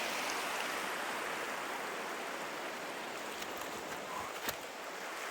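Steady broadband rush of a cold mountain river flowing beside a bridge in winter backcountry near Big Four Mountain, constant and fairly close with no other sounds standing out.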